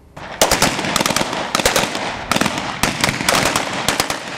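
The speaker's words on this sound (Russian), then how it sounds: "Взрывы, стрельбы, бомбардировка." Rapid bursts of gunfire and sharp bangs crackle through a riot police training demonstration, with dense repeated volleys of shots ringing loud and near, no talk over them.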